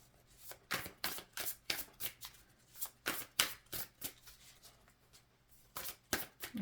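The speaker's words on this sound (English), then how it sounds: "Just shuffling, I'll show you what comes out here." Tarot cards being shuffled by hand: a quick run of crisp, papery riffles and slaps, each burst close and distinct, repeating in a steady rhythm with brief pauses, no talking.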